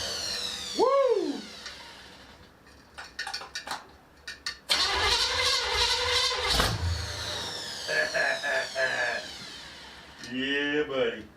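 A freshly rebuilt Chevy 350 cranks, catches and roars up in a couple of loud revs before settling, with people cheering and whooping excitedly around it.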